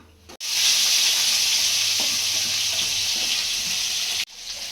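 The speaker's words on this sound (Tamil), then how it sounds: "எண்ணெய் அடுப்பில் எண்ணெய் ஊற்றிக்கலாம். கடுகு சேர்த்துக்கலாம்." Loud, hissing sizzle of mustard seeds hitting hot oil, bursting in abruptly and holding steady for several seconds before cutting off.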